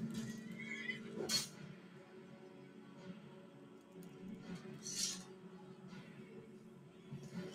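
A horse in the game Skyrim whinnies, a couple of short high neighs over a low, steady ambient background, faint and somewhat distant.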